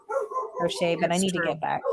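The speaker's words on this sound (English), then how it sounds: "Sorry about the dogs." Several dogs bark in a backyard, including an extra neighbor's dog, in yips and barks that blend under continuous close conversational speech.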